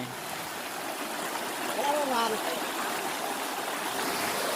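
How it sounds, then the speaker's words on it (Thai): Steady rushing wash of a village stream flowing continuously, a broad even murmur with a faint voice briefly showing through midway. "น้ำกระใสไหลเย็น เสียงน้ำช่างไพเราะก็เกิดชีวิต"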